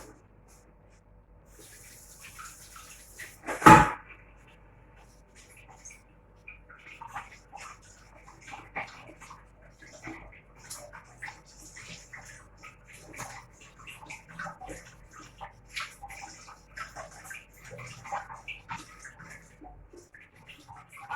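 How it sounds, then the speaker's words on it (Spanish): An onion and a bell pepper are rinsed under a running kitchen tap, a faint, uneven splashing and trickling of water with a brief louder gush early on, heard close and without speech. "Y tanto la cebolla como el morrón, ahora las vamos a lavar para picarlas."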